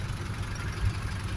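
An Isuzu Elf 14-foot truck with a surplus 4BE1 diesel engine idles nearby, a steady low throbbing rumble with a slight knock to it.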